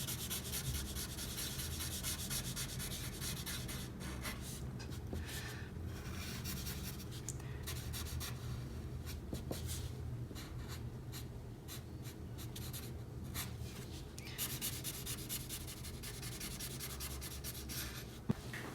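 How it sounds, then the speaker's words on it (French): Marker strokes in vivid pink colouring a flamingo-skin drawing, a steady close scratchy rubbing on paper that runs continuously with small pauses and no talk. "Et on va colorier tout le déguisement."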